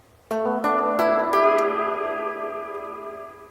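Four electric guitar notes struck in quick succession through a Behringer DR400 digital reverb pedal on its big-room preset, blooming into a wide, lingering reverb that slowly fades.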